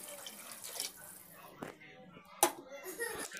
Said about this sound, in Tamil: 2 கிளாஸ் அரிசிக்கு 3 கிளாஸ் தண்ணி ஆட் பண்ணிக்கிறேன்.